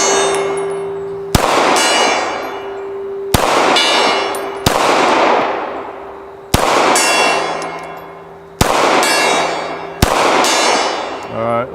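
Seven sharp 9mm shots from a Glock 45 pistol ring out at spaced intervals, each followed by the long ringing clang of a struck steel gong, loud and close.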